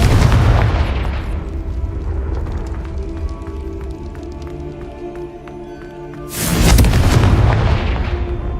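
A Confringo fire spell explodes in the Hogwarts Legacy video game. A deep, booming blast opens the clip, a low rumble follows, and a second heavy explosion erupts near the end.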